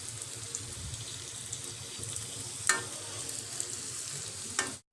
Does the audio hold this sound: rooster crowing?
no